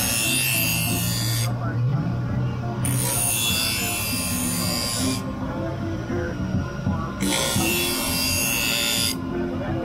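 A knife edge is rasped against a sharpening surface to soften a hard transition line, a steady close grinding with repeated strokes that brighten and fade, carried on under low background chatter of an outdoor farmers market.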